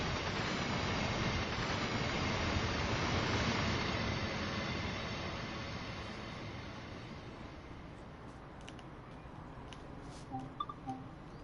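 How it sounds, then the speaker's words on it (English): A freight train rolls past in the Dresden-area regional rail simulator, a steady broadband rumble that fades gradually as it draws away, with a few faint clicks near the end. "A nice little freight train passing for you guys there."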